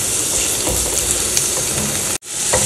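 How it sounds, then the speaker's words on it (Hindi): Chillies and onions fry in a pan with a steady, close, dense sizzle that runs without talk, breaking off for a moment near the end before resuming. "और मिर्च और प्याज, इन्हें थोड़ा देर भून लिया"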